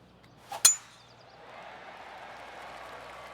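A golf video game shot lands with a sharp metallic clang, then a virtual crowd's applause swells and continues steadily at moderate volume to the end.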